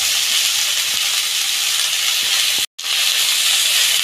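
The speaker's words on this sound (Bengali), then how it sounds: "এটা আমি একটু ভেজে নেব।" Vegetables with salt and turmeric fry for Gobindobhog rice khichuri, giving a loud, steady close hiss and sizzle that cuts out for a moment and then resumes.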